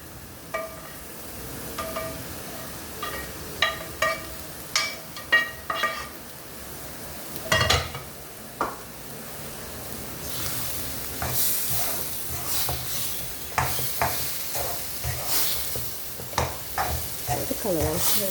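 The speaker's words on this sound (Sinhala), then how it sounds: "අපි ඊට පස්සේ අපි අර බැදගත්ත සෝයා මීට් ටික මේකට හිමීට එකතු කරගන්නවා" Fried soya meat stirred into a hot sizzling pan: a constant hiss of frying under repeated sharp scrapes and knocks of the spoon against the pan, close and fairly loud.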